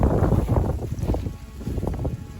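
Wind gusting through a grove of butia palm trees outdoors, a steady low buffeting rumble across the microphone with shifting gusts, no voices.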